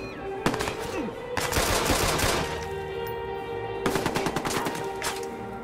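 Gunfire during a Watch Dogs shootout against enemies with rifles: loud bursts of rapid automatic fire in two main volleys with scattered single shots between them, close and dense.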